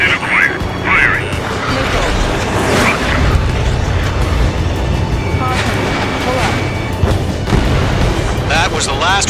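A missile strike destroying a radar vehicle in the jet combat game Ace Combat 7: deep rumbling booms and blasts under engine roar, with radio voices talking over the action.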